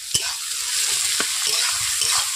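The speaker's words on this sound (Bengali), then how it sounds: "পেঁয়াজগুলোকে আমি নুন দেওয়ার পর নেড়ে নিচ্ছি।" Salted onions fry in a pan with a steady close sizzle, broken by a few sharp scrapes of a spoon or spatula as they are stirred; no one speaks.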